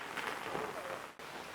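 Steady rain falling outdoors near a kitchen garden, a continuous broadband hiss with no pauses, close and fairly loud.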